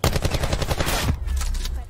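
Rapid automatic gunfire in Call of Duty 4 gun game mode, a loud, dense burst of close shots lasting about a second, followed by quieter game noise.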